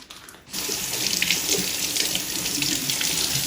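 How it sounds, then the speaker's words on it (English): Tap water runs steadily into a sink while Cornish hens are rinsed, a continuous splashing hiss that starts after a brief quieter moment and stays loud and close throughout. "We want to rinse these really good, inside and out."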